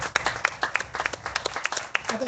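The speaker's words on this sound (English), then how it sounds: "Let's give our senior showman here a round of applause." Brief, lively clapping from a modest crowd at a county fair beef show, individual claps distinct and rapid, with a voice starting to speak at the very end.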